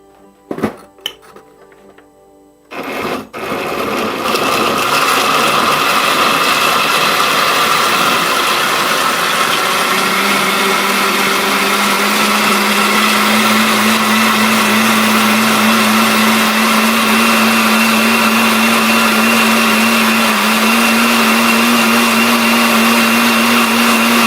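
After a few quiet clinks, a blender whirs loudly and continuously, blending bone broth for birria consomme, and its motor pitch shifts partway through the run.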